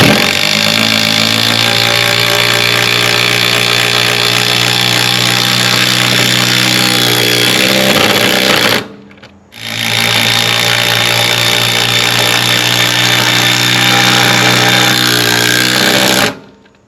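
A loud, steady power tool whines continuously for about eight seconds driving lag screws without pre-drilling, cuts out briefly, then runs again for another seven seconds before stopping.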